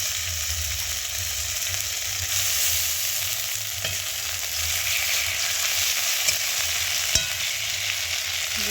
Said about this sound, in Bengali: এবার দিয়ে দিচ্ছি রসুন বাটা